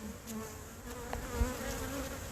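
Honey bees hum around an open hive, a steady low drone of many wings with a few louder passes close by; no talking.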